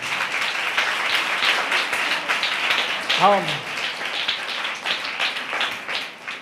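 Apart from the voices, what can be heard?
congregation clapping hands to glorify God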